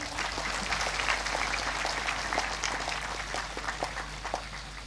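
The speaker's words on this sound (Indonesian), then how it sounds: "tolong semuanya berikan tepuk tangan yang meriah." A crowd at a formal government gathering in Southeast Sulawesi gives dense, steady applause that rolls on at moderate volume and thins slightly toward the end.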